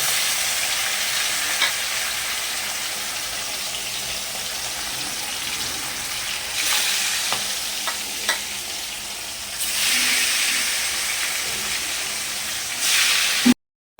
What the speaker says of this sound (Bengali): আবারও মাছগুলোকে ভেজে রাখবো এইভাবে করে সম্পূর্ণ মাছগুলোকে ভেজে নেওয়া হবে